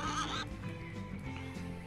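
Cattle in the Let's Build a Zoo game giving a short whinny-like neigh, heard faintly at the start over continuous game music, with no voices.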